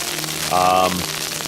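Rain falls steadily at a winter campsite in Algonquin, a dense continuous patter on a surface, with a brief tonal squeak or voice-like sound partway through.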